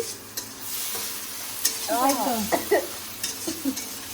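Masala for fried rice fries in a pan, a steady close sizzle broken by spatula stirs and knocks, while a high, wavering voice-like tone briefly sounds in the middle.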